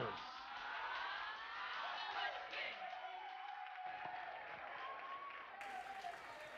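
Crowd at a live dance-event awards ceremony applauds the winners, a steady wash of clapping with some cheering heard somewhat distant and muffled, continuing evenly throughout.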